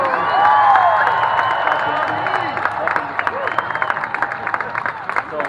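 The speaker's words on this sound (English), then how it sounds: "Give yourselves a round of applause." A crowd at an outdoor rally at the Minnesota State Capitol in St. Paul claps and cheers. The steady, loud applause has scattered whoops and shouts and fades slightly toward the end.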